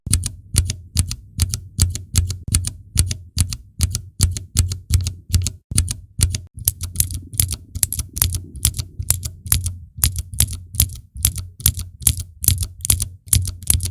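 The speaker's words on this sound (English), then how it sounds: "These are essentially tactile switches, but which also offer an auditory click, the very signature click which you often get with mechanical keyboards." Rapid typing on a mechanical keyboard with clicky switches, a steady stream of sharp, crisp key clicks close up, loud and alone with no voices.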